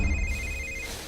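A telephone rings with a steady electronic tone, close and clear, cutting off after about a second.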